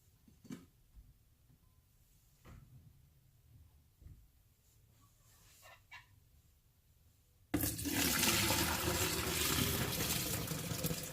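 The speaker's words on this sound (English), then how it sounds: "now we have to take this, pour it into this gallon jug" Homemade kombucha poured into a gallon jug: after scattered quiet clinks and handling noises, a loud continuous splashing gush of liquid starts abruptly and runs on steadily, close by.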